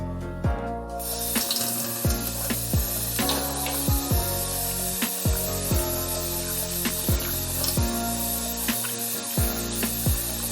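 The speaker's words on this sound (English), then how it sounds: "First, wash the lime with clean water." A lime is rinsed under running tap water into a sink, a constant close splashing stream with brief knocks and gurgles scattered throughout.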